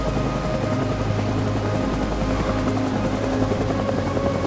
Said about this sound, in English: This chopper isn't going back.